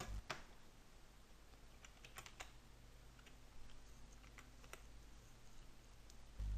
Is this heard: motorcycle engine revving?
no